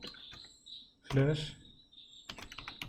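Quick keystrokes typed on a computer keyboard, soft close clicks in short bursts at the start and end, with a brief voice-like sound in the middle.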